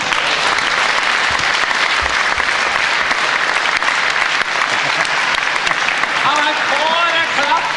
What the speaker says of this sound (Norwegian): En varm applaus til Kåre Klaben.